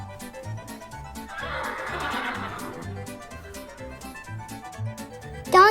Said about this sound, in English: Horse. Horse in Spanish is caballo.